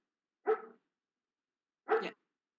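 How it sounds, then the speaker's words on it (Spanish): A dog lets out two separate short barks a little over a second apart, each clear and fairly close, with total silence around and between them. "Solo escucho a tu perro ladrar."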